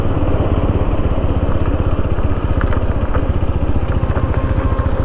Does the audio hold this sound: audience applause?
no